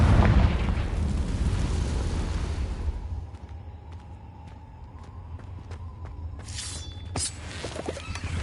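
A loud, dense blast roars for about three seconds in the Hogwarts Legacy video game as a Confringo spell detonates, then fades into crackling debris with a few sharp pops and a bright burst near the end.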